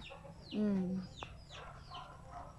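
Backyard chickens clucking close by, one loud drawn-out cluck followed by softer, scattered clucks and calls over faint low background noise.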